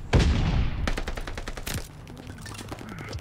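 Gunfire in the World War II shooter game Call of Duty: Vanguard, a loud close burst of rapid shots followed by a few more scattered cracks and quieter game sounds.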